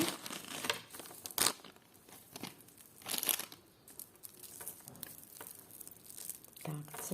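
Crinkling and tearing of a small plastic packet, with sharp rustling bursts between quieter handling noises, close by.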